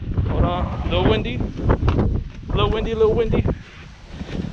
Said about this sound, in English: Hold on, a little windy.